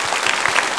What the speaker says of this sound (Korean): 새 가족을 박수로 환영하겠습니다.